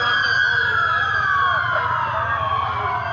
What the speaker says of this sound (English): Those sirens prove it.